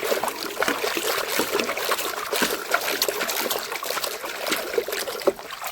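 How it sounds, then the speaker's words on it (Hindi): A toy JCB 3DX backhoe is dipped and washed in water, producing steady close splashing and trickling with small sloshes throughout, fairly loud and with no talk over it. "चलो इसको पानी में डुबा के धोना पड़ेगा ना बच्चों"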